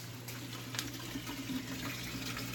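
Water runs steadily into a 350-gallon plywood aquarium through a drip system, a constant gushing wash that keeps an even level from start to finish with no voices.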